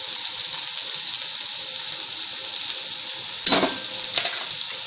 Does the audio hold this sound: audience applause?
no